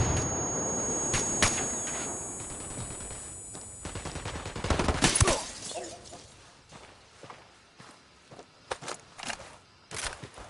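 Scattered gunshots in the video game Ghost Recon Wildlands, sharp cracks and short bursts amid glassy shattering and rustling, loudest around the middle, then sparser reports trailing off.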